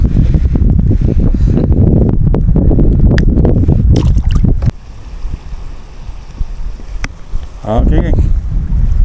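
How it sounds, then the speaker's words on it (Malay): Strong wind roars over the open sea around a small fishing boat near an island, a loud, steady gusting rush that buffets the microphone and eases off to a lower, choppier level partway through. "Angin padu amat ni."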